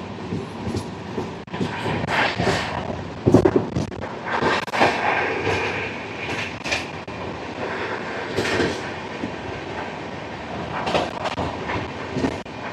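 A train runs through Velainur railway station on a single line without stopping, with continuous rolling rumble and repeated loud, sharp wheel clacks and thuds over the joints, close by and with no voices.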